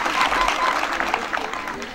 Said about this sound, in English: May you clap again.